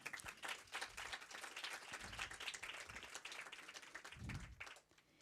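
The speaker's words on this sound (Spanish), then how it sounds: "quiero le brindemos un fuertísimo aplauso" An audience applauds a speaker at a conference, dense steady clapping from many hands that holds strong, then thins out and fades near the end.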